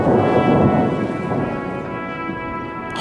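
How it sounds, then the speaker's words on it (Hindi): Heavy rain falls with rolling thunder, a dense, steady roar of downpour and low rumbles that holds loud for about three seconds, then ends in a sharp crackle. "पहली बारिश की बूंदें इन्हें भी भाती हैं।"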